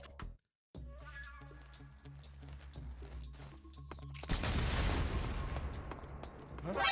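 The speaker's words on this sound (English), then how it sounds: "I thought just shooting might have distracted that guard" Rapid bursts of video game gunfire rattle over a busy game soundscape with footsteps and clatter, followed by a louder, denser stretch of shots near the end.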